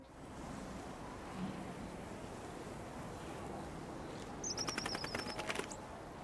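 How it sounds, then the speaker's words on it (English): In Ghost of Yotei, a small bird lands on Atsu's hand and gives a quick burst of clear, rapid chirps over a soft outdoor ambience of wind and surf. "So a bird will land on Atsu's hand before flying away again."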